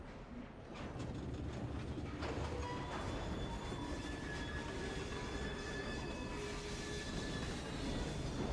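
A train in Assassin's Creed Syndicate rumbles steadily along the track, close and continuous, with rattling carriage noise, a few metallic clanks early on and faint wheel squeal ringing over the rolling roar, with no talking.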